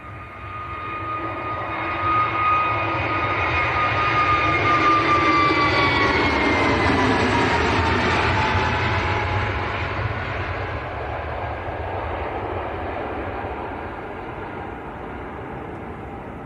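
An Emirates Airbus A380 jet at Manchester Airport roars past, its engine noise swelling to a loud, sustained rumble with a whining tone, then slowly fading away. No one speaks.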